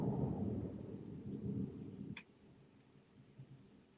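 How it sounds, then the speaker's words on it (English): Rumbling thunder rolls through during a storm with lights going out, a low sustained grumble fading after about two seconds, followed by a faint tick and quiet background. "Just had thunder come through"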